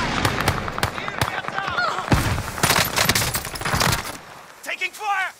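Rapid gunfire in Call of Duty on Rebirth Island, dense bursts of automatic shots and impacts close up, mixed with game voice lines and chatter throughout.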